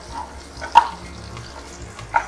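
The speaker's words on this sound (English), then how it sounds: "Now let's add in the sliced onions. We'll saute this until they turn translucent." Sliced onions sauté in a pan for biryani, a soft, low sizzle marked by two brief sharp spikes as they are stirred.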